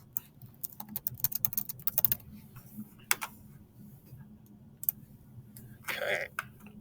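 Fast, uneven clicking of computer keys typing a file name, close and fairly faint, in a quick burst of several taps followed by a few isolated clicks and a short soft rustle near the end.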